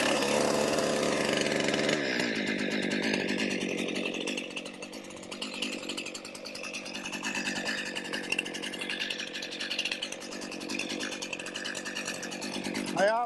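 Chainsaw in need of sharpening working on a popple tree, a buzzing engine drone that shifts pitch as the cut proceeds, close by, with a person talking over it.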